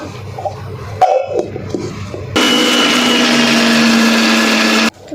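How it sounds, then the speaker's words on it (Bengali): An electric blender grinding fried chili peppers in a home kitchen starts abruptly after some light handling sounds, runs as a loud steady whir for a few seconds, then cuts off sharply. "এখন এগুলোকে ব্লেন্ড করে নিব"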